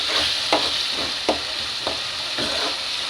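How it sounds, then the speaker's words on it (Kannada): Chopped tomatoes fry and sizzle in a pan for egg masala, with a steady hiss throughout and a spatula stirring and scraping about four times at a regular pace. No one speaks. "ಈಗ ಇದಕ್ಕೆ ನಾನು ಹೆಚ್ಚಿರೋ ಟೊಮೆಟೊ ಹಾಕ್ತೀನಿ."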